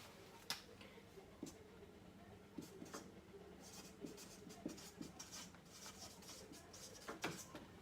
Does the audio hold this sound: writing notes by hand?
yes